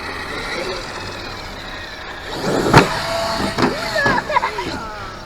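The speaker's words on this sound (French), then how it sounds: "C'est un Monster Truck" An X-Maxx 8S RC monster truck drives close by, its electric motor whining steadily with rising and falling surges and clunks over the second half as it accelerates and bumps, with no talk over it.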